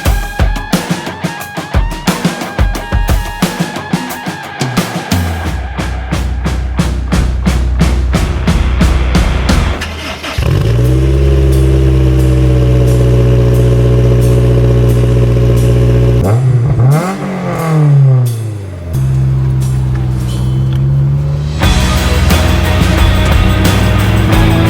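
A 2006 Honda S2000 engine revs hard and accelerates, loud and close, holding a steady droning pitch that sweeps up and down through gear changes.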